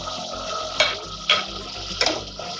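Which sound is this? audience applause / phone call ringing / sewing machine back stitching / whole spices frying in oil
whole spices frying in oil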